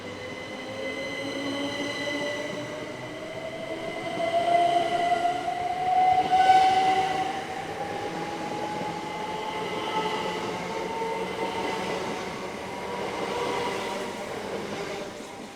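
Passenger trains pull out of Tonbridge station, a rising electric traction whine with rolling wheel noise that swells and fades over about fifteen seconds, moderately distant, with no talk.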